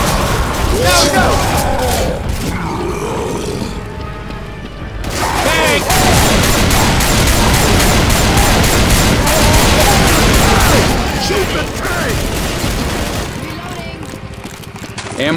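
Dense, sustained gunfire in Left 4 Dead 2 during The Sacrifice campaign, rapid shots from several weapons overlapping almost continuously, loud and close, with players shouting over the barrage.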